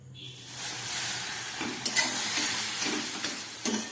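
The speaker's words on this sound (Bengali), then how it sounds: "এবার আমি এর মধ্যে আস্তে আস্তে দিয়ে দিচ্ছি এই দুধটা" Milk poured slowly into a frying modak mixture sets off a hissing sizzle, with spatula stirring and scraping audible close by.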